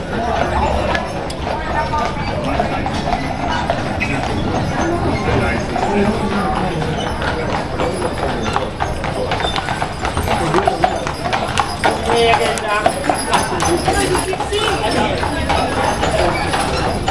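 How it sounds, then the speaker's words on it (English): Horse and buggy hooves clip-clop in a steady rhythm on pavement on Mackinac Island, with wheels rattling and people talking nearby throughout. "So, horse and buggy ride, tour of Mackinac Island."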